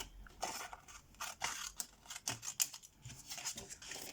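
Scissors cutting paper for handmade card making, a string of close, crisp snips and rasping slices repeating unevenly over a few seconds, quiet and alone.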